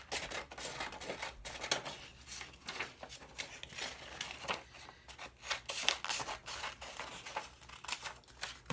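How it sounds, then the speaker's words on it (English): Scissors snip through a laminated paper image in a steady run of crisp, close cuts, the strokes irregular in pace with brief pauses between them. "we're going to cut our image out"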